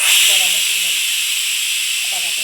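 Steady, loud hiss of steam escaping from a pressure cooker holding masala, continuous from start to finish, with a voice talking faintly underneath.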